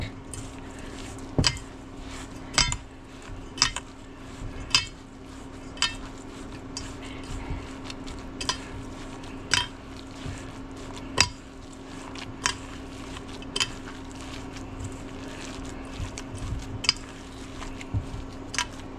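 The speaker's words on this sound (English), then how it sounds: "I am going to stir this up." Meat loaf mixture with diced tomatoes stirred in a bowl: soft, squishy scraping with regular light clicks of the utensil striking the side, close and quiet against a steady low hum, no voices.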